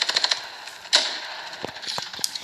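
Sharp, snappy gunshots from the mobile shooter game Standoff 2, a quick cluster of clicks and cracks with one louder shot in the middle, fairly close and without talk.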